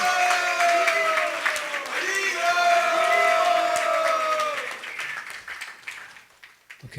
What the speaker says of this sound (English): Okay, so that's all the uproar and all the applaud was for you, Prabhu